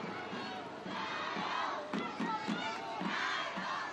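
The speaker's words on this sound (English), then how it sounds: "Great support from the local crowd here." A local crowd cheers at a race walking team championship in Taicang, a sustained roar of shouting and whooping voices that rises and swells in waves throughout.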